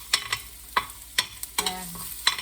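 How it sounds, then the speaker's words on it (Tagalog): Ginger sautéing in rendered pork belly fat in a pan, a light sizzle punctuated by several sharp scrapes and clicks of a spatula at uneven intervals, close and clear. "Gigisa ko na itong luya."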